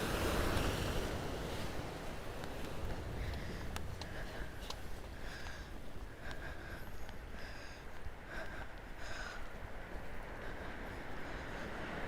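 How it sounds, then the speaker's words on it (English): Sea waves wash onto the shore at sunrise at Nobby's, a steady rushing surf with gusty wind noise throughout, moderately distant and continuous with no voices. "The sound of the sea is wonderful"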